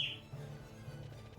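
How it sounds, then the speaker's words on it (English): Two pet cockatiels chirp in a room, with one sharp high chirp at the start followed by faint, quieter calls over a low background hum, heard at a distance and without any talk. "my grandma has 2 cockatiels, and they're pets that just mostly just screech and eat and drink"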